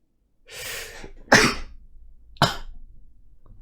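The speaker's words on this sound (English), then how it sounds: "I'm about to sneeze." A breathy inhale followed by two sharp, explosive bursts, close and loud, like a sneeze with a follow-up.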